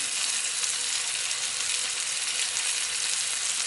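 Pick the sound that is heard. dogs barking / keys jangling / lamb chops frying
lamb chops frying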